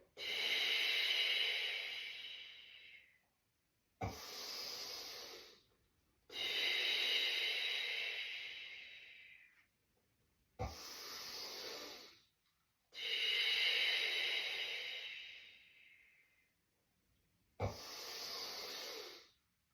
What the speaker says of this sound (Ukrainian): І видих.